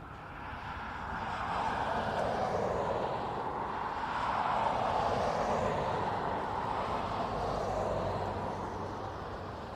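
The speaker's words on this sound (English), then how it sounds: "Finnair on taxi." A Finnair airliner taxis at Dublin Airport, its jet engines giving a steady, broad roar that swells slightly midway and holds at moderate distance, with no voices.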